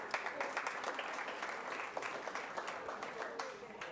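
Applause at a school board meeting honoring elementary school staff: a steady roomful of clapping, moderately distant and even, with individual claps popping out, continuing for about four seconds.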